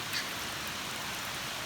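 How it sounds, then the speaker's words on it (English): Heavy rain pours down in a dense, even hiss with no breaks, steady and fairly close, with no voices. "But it's raining here. It's raining cats and dogs."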